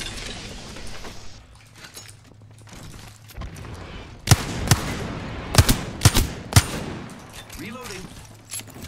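Gunfire in a combat video game, starting as a low rumbling background and then breaking into a handful of sharp, loud shots spaced irregularly through the second half.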